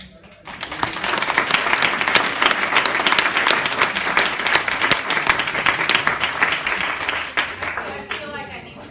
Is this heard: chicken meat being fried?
no